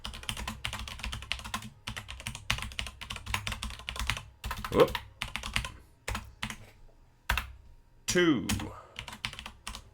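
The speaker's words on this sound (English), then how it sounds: "Mechanical keyboard." Rapid clicking keystrokes on a mechanical computer keyboard, close and fairly loud, in bursts with short pauses, while someone talks over parts of it.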